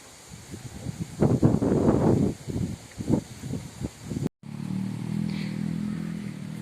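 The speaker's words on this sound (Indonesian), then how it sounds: "Ini anginnya sangat-sangat kencang banget." Very strong gusty wind blasting around a village shop at midday, roaring and buffeting in loud broadband surges, with clattering and rustling debris, then a sudden cut to a steadier low rumbling gust.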